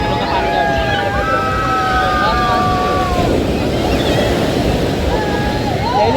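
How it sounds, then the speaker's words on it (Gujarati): Stormy sea waves breaking at the shore beside Somnath temple, a continuous close roar of surf blown about by wind noise, with a faint murmur of people in the background. "અને મોજા જુઓ તમે એકવાર ખાલી."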